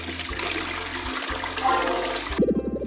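A toilet flushes with a rushing, gurgling swirl of water, close and steady, ending in a brief burst of louder draining.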